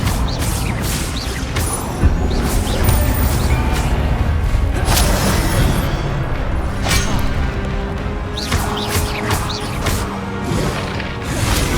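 Spell combat in the video game Hogwarts Legacy, with a disarming spell cast amid loud whooshes, crashes and mechanical clatter, sharp bursts recurring over a dense, busy game soundscape.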